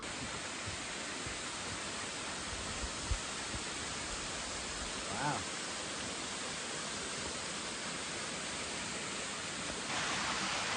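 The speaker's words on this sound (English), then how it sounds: "We've seen a bunch of waterfalls, but this is by far the coolest. It's a lot of cascades." Cascading waterfall at Jones Falls along the Appalachian Trail, a steady broadband rush of water that holds constant and loud for the whole stretch, with no voices.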